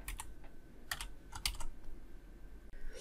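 Keys on a computer keyboard are typed in a few quick, close clicks, with short bursts and pauses over a quiet room hum.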